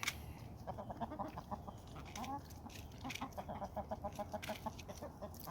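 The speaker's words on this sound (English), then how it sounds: "The chickens will eat it all up." Backyard chickens clucking in repeated short bursts, close and fairly loud, over a steady outdoor hum on a cold morning.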